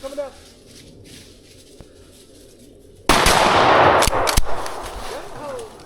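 Gunfire during a public-land squirrel hunt with dogs, a sudden loud burst of shots near three seconds followed by sustained roaring noise and a couple of sharp cracks, after quiet outdoor ambience with faint calls.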